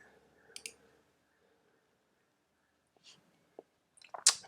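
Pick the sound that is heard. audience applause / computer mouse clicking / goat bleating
computer mouse clicking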